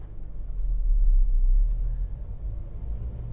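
Manual car pulling away in traffic on gas and clutch, a steady low engine rumble that swells briefly then settles, heard from inside the cabin with no talking.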